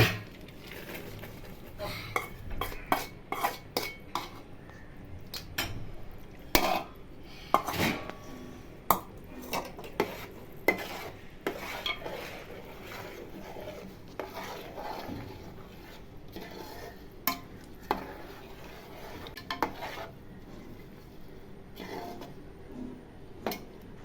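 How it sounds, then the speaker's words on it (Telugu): Coconut pieces are stirred into hot sugar syrup in a pot, giving faint, irregular clanks and scrapes of a spoon against metal over a soft background. "పాకం అయిపోయిందండి కొబ్బరి ముక్కలు వేస్తాము"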